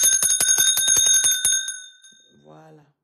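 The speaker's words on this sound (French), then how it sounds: "Tu veux savoir quoi c'est la cloche" Small bell rung rapidly in a bright, metallic ringing burst of about a dozen strokes, close and fairly loud, fading out before a brief voice speaks.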